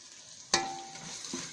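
A chicken pasta mixture with soy sauce and chili sauce is stirred in a pan, with a soft background sizzle and two brief sharp scrapes of a spatula.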